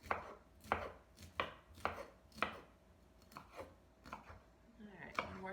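A knife cuts Polish kielbasa into semicircles on a cutting board, making a series of sharp, evenly spaced chopping knocks close by, about nine strokes with a faint voice underneath.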